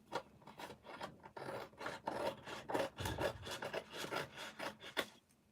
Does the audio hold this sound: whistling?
no